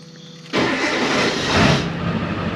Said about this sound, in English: Truck fired up.